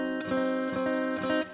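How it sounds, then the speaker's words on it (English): A diminished chord rings out on guitar, sustained with a few softer restrikes or picked notes under it, steady and fairly quiet up close. "That's the sound of a diminished chord."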